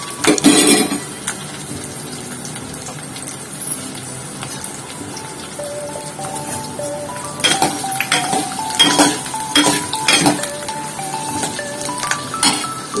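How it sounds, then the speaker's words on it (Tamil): A spatula scrapes and clinks against a metal pan as sliced radish and garlic are stir-fried for radish kulambu, with irregular knocks that come closer together toward the end and no talking. "இப்போ முள்ளங்கி போட்டுக்கலாம். முள்ளங்கி போட்டு கொஞ்சம் நல்லா வதக்கணும்."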